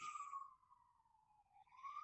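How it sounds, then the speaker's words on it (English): A wailing emergency siren rises and falls in the distance, faint and alone, drifting down in pitch before sweeping back up. "I don't know if you can hear sirens in the background"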